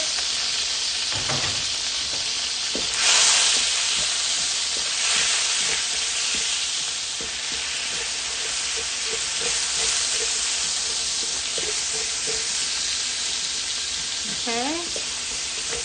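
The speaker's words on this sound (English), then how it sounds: "saute that. We're just sweating our garlic right now." Garlic sweats and sizzles in a pan for a Filipino pancit, giving a steady broadband frying hiss with scattered clicks of stirring. A short spoken word breaks in near the start, and a brief squeaky sound comes near the end.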